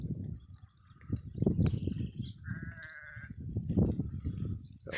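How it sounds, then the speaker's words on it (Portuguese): A sheep bleats in the semi-arid backcountry as the first rains begin, a few wavering calls at moderate distance over a low, steady rumble of wind and rain. "Ali vai a ovelha."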